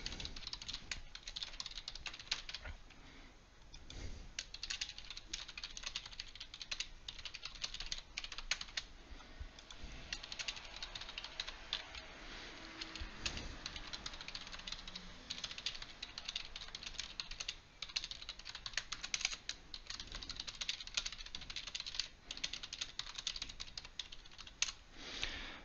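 Someone types an email address on a computer keyboard, producing a steady patter of quiet, close key clicks and taps that runs continuously with small irregular pauses, faint and alone.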